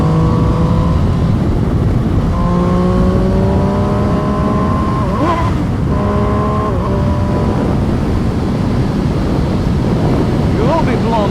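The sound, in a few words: MV Agusta Brutale Dragster RR motorcycle riding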